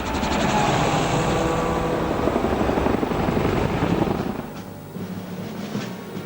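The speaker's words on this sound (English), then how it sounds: "8 MH-60 Black Hawks and 8 Little Bird helicopters lifted off and headed for the center of Mogadishu" Loud, steady thrum of MH-60 Black Hawk and Little Bird helicopter rotors filling the air over Mogadishu, a heavy continuous beating drone that eases slightly toward the end.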